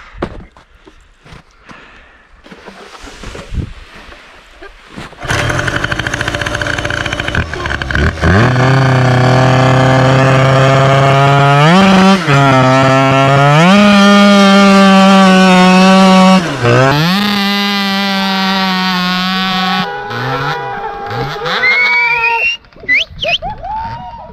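A 70cc Stage 6 RPC snow drag engine, outdoors on packed snow, idles and then revs loudly in repeated rising and falling sweeps, with a steady high-pitched two-stroke drone close by before cutting back near the end.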